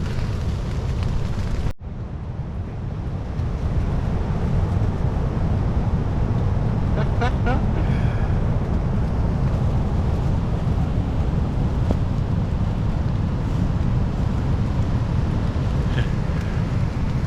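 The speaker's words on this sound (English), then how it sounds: "Wow, that wind's picking up. It's gonna be a bumpy night." Strong wind from Storm Darragh batters a wild camping spot, a loud continuous roaring buffet that drops briefly after a sharp break near the start and then rushes on.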